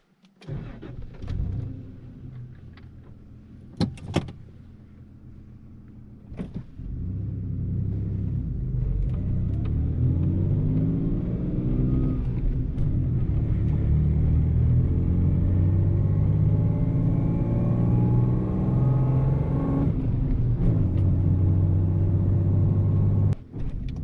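A first-generation Toyota Tacoma 5VZ-FE V6 with a Magnaflow 11255 muffler cranks a few times, catches, and settles into a deep, steady rumbling idle, with a low exhaust drone heard from inside the cab.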